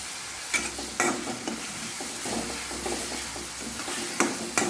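Onion paste and ginger-garlic paste sizzle with bay leaves in hot oil in a pan over low gas, with a spoon scraping and stirring at intervals, close up and fairly quiet.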